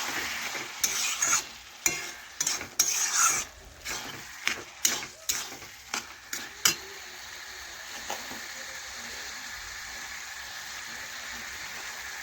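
Fish-head masala stirred in a pan, with a dozen or so scraping, clattering spoon strokes in an irregular rhythm over a steady close sizzle, the strokes stopping after about eight seconds while the frying hiss continues alone.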